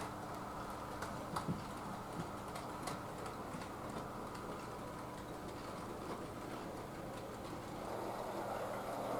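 A Hornby model of an LMS Fowler 2-6-4T tank locomotive runs steadily along model track. It gives a continuous faint whirring rumble with light rhythmic ticking from the wheels, and no one speaks.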